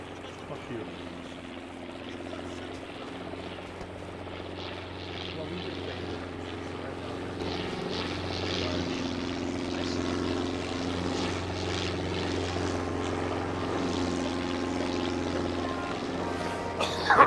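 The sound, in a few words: helicopter arriving in ARMA 3 video game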